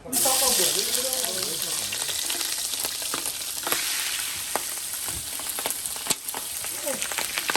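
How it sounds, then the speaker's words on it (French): Boucané, smoked pork, fries in hot oil in a pot on the fire, giving a loud, dense sizzle with crackling pops that starts sharply and stays steady, with faint water and kitchen clatter in the background. "On a une marmite sur le feu avec de l'huile à l'intérieur. Donc ça fait revenir le boucané."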